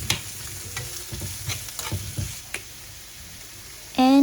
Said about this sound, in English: Next, adding mushrooms.